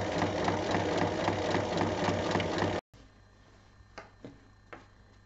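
Sewing machine stitching fabric pieces right sides together for a school pencil case, a steady rapid mechanical run for almost three seconds, then stopping, followed by quiet room noise with a few faint handling clicks.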